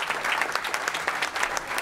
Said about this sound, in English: Let's give a big round of applause for Trayvon.